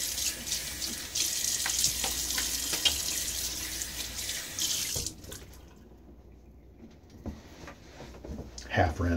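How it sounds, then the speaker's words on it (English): A safety razor is rinsed under a running bathroom tap during a wet shave, water splashing steadily into the sink for about five seconds before cutting off, followed by quieter handling and faint clinks. "All right, a little quick rinse."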